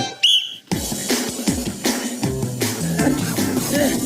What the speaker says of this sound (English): when I say go and blow this whistle